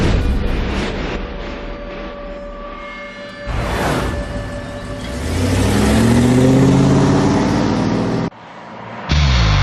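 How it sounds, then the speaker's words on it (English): A Ford F-150 EcoBoost pickup towing at full throttle roars under heavy load, revving hard and rising in pitch, with a rushing whoosh midway and a brief drop before the roar resumes. "Then we'll tow it at full throttle for 24 hours straight"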